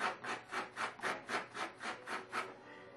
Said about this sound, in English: So I'm going to use my sanding block just to get off the extreme sharp